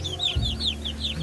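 A chicken clucks in a quick series of short, repeated calls, close and fairly quiet, with a low hum underneath.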